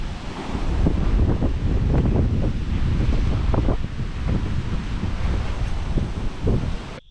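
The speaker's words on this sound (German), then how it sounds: "Ein Sturm." A storm blows over a deserted beach on the Amazon, with strong wind buffeting the microphone and waves surging continuously, loud and close throughout, with no voices.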